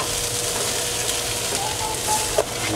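Salt and pepper pork chops sizzle steadily in a pan as they are stirred around, a constant loud frying hiss with a brief scrape of the utensil near the end.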